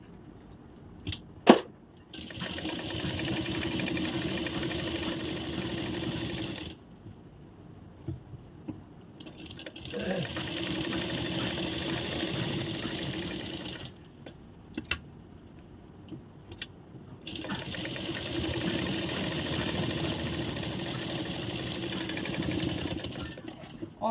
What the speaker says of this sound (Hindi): सेम इसी तरह दूसरी साइड भी हम सिलाई लगाएंगे